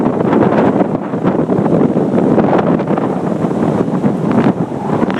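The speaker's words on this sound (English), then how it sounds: "Really windy." Hurricane Sandy winds tear across the Dania Beach pier, hammering the microphone with loud, gusting roar while ocean surf churns beneath, sustained and unbroken throughout.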